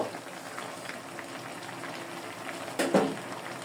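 Water is poured into a pan of half-boiled cauliflower, giving a steady low bubbling simmer with a brief louder splash and hiss near the end.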